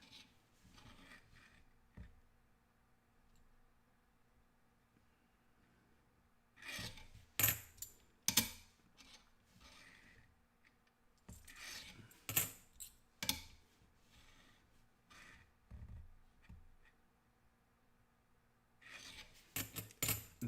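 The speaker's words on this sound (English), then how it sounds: "I'm going to actually go ahead and pull that Philippine dime back out." A Philippine dime being pulled out and handled, with scattered bursts of metallic clinks, rubs and scrapes at close range between quiet stretches, and no talking.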